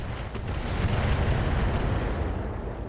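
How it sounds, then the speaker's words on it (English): A mech in the RogueTech mod of BattleTech fires high explosive ammo into an enemy Kodiak mech, a continuous loud roar of blasts and rumbling impacts without clear separate shots. "we're also going to fire into this Kodiak with high explosive ammo"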